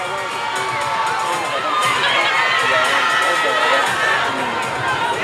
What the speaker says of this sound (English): let's give a round of applause to all of our finalists